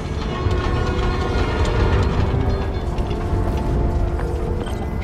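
A New York subway train in the video game Spider-Man Miles Morales, heard as a steady, loud mechanical rumble with clanking, ratcheting wheel and gear noise that continues evenly throughout, with no talking.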